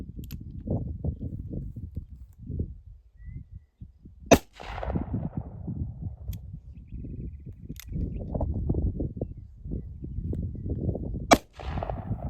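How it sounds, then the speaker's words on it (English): Two loud, sharp gunshots from a .44 Magnum revolver fired at a can outdoors while camping, well spaced with crackling transients and rolling decay, over a steady low rumble of background noise. "we're going to do some shooting with his 44 mag"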